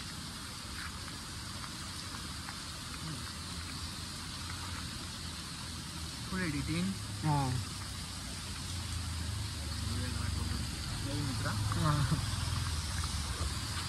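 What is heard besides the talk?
continuous monsoon rain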